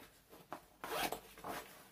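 Zipper on the front pocket of an Arktis combat smock, pulled in two or three short, close, scratchy strokes, with no talking.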